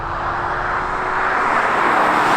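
A 550 hp Porsche Cayenne Turbo Coupe V8 pulls hard under acceleration, a loud, dense engine roar that swells steadily and rises in pitch with no talk over it.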